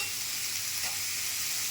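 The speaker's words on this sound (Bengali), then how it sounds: "মানে আলুটাকে একটু ভেজে নিতে হবে ভালো করে।" Potatoes fry with turmeric and salt in a pan, giving an even, close sizzle with a brief stirring scrape partway through. No one talks.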